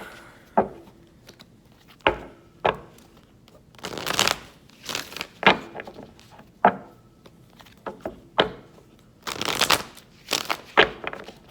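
Tarot cards are pulled from their box and handled in a series of close, separate shuffles, flicks and rubs, with short quiet gaps between the bursts.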